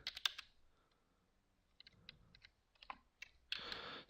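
Short bursts of quiet keyboard typing while entering code, clusters of soft clicks separated by brief pauses, close and faint, with no talking.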